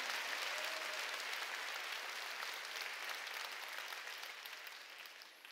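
A church congregation applauds during a Sunday worship service, a dense, steady clapping from a large crowd that stays loud throughout and tapers slightly toward the end.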